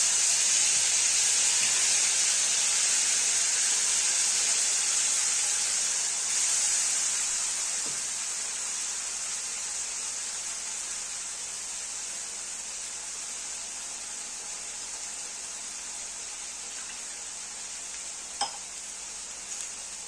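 Cumin seeds and masala sizzle steadily in hot oil for a Marathi village-style vegetable dish, a bright continuous hiss that slowly softens, with a single sharp clink near the end.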